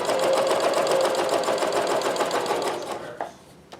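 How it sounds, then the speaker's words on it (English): A Janome CoverPro 1000CPX coverstitch machine stitching fabric at reduced stitch length, a loud steady mechanical whir with rapid needle chatter that runs continuously, then slows and stops near the end, with no talk over it. "So I've reduced the stitch length here. We're stitching away."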